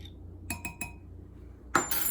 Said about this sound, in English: And we're going to mix that all up.